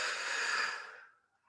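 A single long exhale during a relaxing fertility yoga session, a soft breathy rush of air lasting about a second that fades away into silence.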